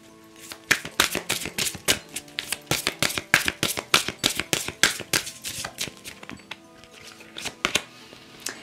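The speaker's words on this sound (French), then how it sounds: "avec l'oracle, de l'oracle de l'amour universel, elle glisse ces cartes" Oracle cards shuffled by hand for a love reading, with a long run of quick, crisp riffling slaps in an uneven rhythm, close and fairly loud, gradually thinning toward the end, no voices.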